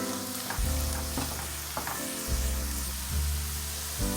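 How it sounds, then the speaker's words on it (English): Minced garlic sizzling in a hot pan for creamed spinach, a steady loud frying hiss with several scraping stirs of a utensil across the pan. "So now we're going to add in our minced garlic. We're going to mix that around."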